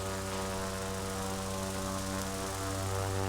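A Pilatus PC-6C propeller plane in Flight Simulator X throttles up for takeoff, its engine giving a steady, dense droning buzz with strong tonal harmonics that holds level throughout, loud and continuous with no talk.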